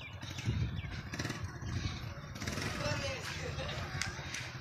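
A motorcycle engine runs low and steady as a learner rider slowly releases the clutch, its rumble continuous beneath near, constant talk, with faint birds chirping in the background.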